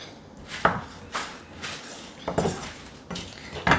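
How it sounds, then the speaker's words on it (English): A knife chops fish into three pieces on a board, with several distinct sharp thuds spaced irregularly, close and fairly quiet between cuts. "we will take our fish and cut it into pieces, 3 pieces"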